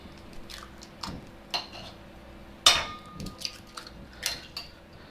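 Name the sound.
cracking eggs into a bowl for chocolate lava cake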